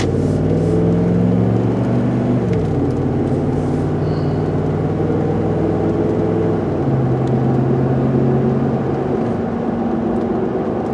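A 2010 Ford F-150 pickup truck with a P0020 fault code cruises steadily, its engine drone and road noise holding a constant loud hum with slight shifts in pitch throughout.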